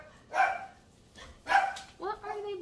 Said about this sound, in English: And there goes the dogs.